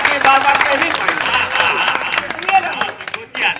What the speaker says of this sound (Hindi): ताली बजाइए, इतनी मजा आता है।